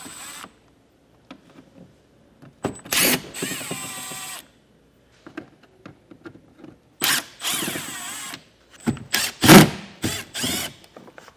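Power tool backing Phillips screws out of the grille of a 2015 Chevrolet Spark: short, close whirring bursts separated by quiet gaps and light handling clatter.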